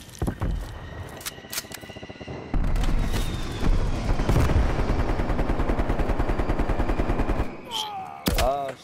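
Heavy automatic gunfire in Call of Duty: Black Ops Cold War, dense rapid bursts and loud cracks up close with a distant rattle, sustained for several seconds and then a final sharp shot.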